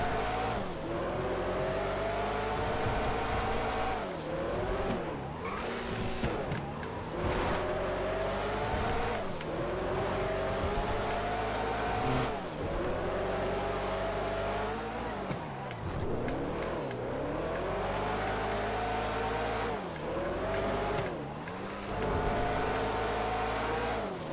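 An old-school Le Mans race car driven in GTA FiveM, engine revving hard through repeated gear shifts and rising accelerations, loud and close with occasional tire squeal, no talking.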